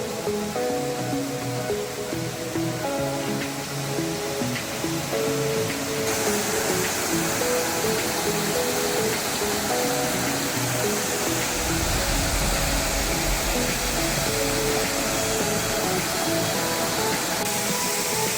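Namtok Lap (Phran Thep Sing), a waterfall of white-looking water, rushes in a steady, even wash of noise that carries on alone throughout.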